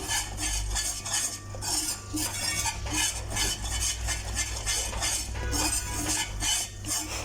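A whisk stirring and scraping a thickening gram flour mixture in a pan, continuous close clinking and scraping of metal against the pan with a faint low hum beneath, no voices.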